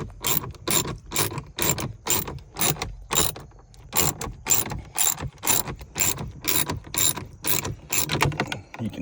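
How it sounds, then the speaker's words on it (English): A ratchet wrench working a bolt loose on a Jeep Wrangler JL, with a loud, close, rhythmic ratcheting whir that repeats in about a dozen even bursts with short pauses between them. "we'll get this bolt out here"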